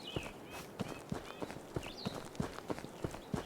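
A hunter's running footsteps through forest terrain in Hunting Simulator 2, Colorado's Roosevelt Forest, quick steady thuds in an even rhythm, close and moderately quiet, with faint bird calls in the background.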